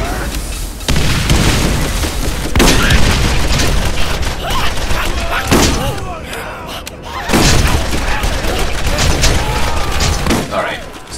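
Dense, loud gunfire and booming blasts fill a Borderlands firefight, rapid bursts and shots stacking almost without pause, with a player's voice calling out over the chaos.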